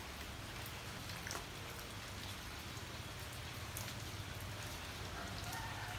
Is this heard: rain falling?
yes